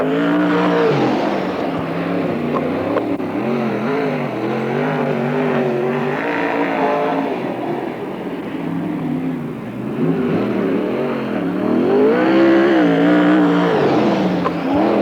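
Sprint race cars roar around a dirt track in Marysville, California, their engines loud and continuous, rising and falling in pitch as they rev through the turns and pass.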